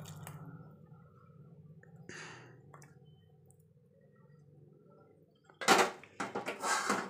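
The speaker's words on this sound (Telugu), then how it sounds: "దీన్ని మంచిగా కలిసేటట్టుగా కలుపుకుందామండి." Thick tamarind pulp is mixed into cooled rice for pulihora, making quiet, close, squishy stirring sounds, with a faint low hum underneath and a louder burst of moist scraping and clatter near the end.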